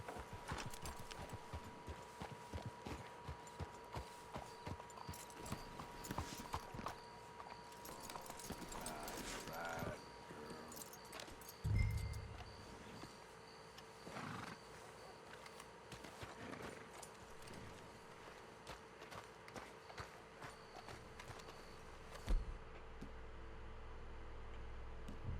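Horses clip-clop at a walking pace through Red Dead Redemption 2, a steady run of faint hoof knocks under continuous game ambience, with occasional talk and a louder thud partway through.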